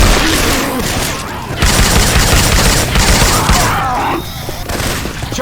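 Syphon Filter weapon sounds swapped into Left 4 Dead 2 fire in rapid loud bursts, dense overlapping gunfire with a brief lull before shooting resumes.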